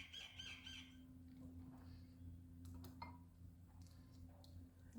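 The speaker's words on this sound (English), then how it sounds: "You guys can listen to the birds today. They are chirping because it is" Birds chirp and squawk outdoors on a sunny, windy day, with a duck nearby, giving scattered faint calls and brief ticks over a steady low hum and soft wind.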